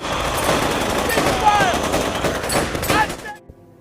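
Rapid bursts of automatic gunfire from American soldiers shooting blindly in the zombie series S.O.Z. Soldier of Zombies, dense and loud with layered shots and effects, cutting off abruptly near the end.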